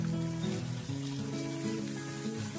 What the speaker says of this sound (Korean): 이제 썰어놓은 두부에 소금을 살짝 뿌리고 구워줄 건데요